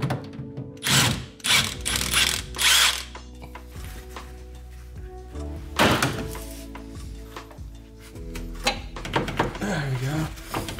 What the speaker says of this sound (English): There's an E14 Torx bolt that you have to remove here.